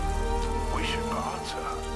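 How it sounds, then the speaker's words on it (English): Steady rainfall on the planet Toshara in the video game Star Wars Outlaws, a continuous patter running under a tonal game soundscape with faint speech. "Every time I'm on this planet, it's raining."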